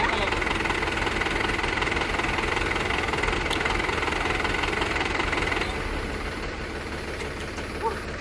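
A tractor ploughing village farmland runs steadily at close range, a loud continuous diesel drone with a knocking throb that eases slightly toward the end.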